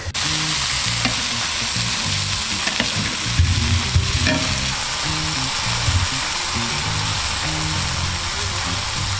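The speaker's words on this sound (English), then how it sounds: "I'm gonna take that steak and I'm gonna put it right on the middle of the insert there, and we're gonna get it a nice sear" A steak searing on a Hatchet grill insert gives off a loud, continuous sizzle that holds steady and close throughout, with faint crackles scattered through the hiss.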